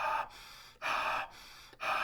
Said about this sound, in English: What's happening when you're breathing like that?